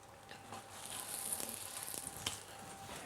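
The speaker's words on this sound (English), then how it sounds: "And you start to sizzle." Radicchio, a chicory, cooking slowly in olive oil in a saute pan, giving a steady soft sizzle with faint crackles and pops, close and low in level.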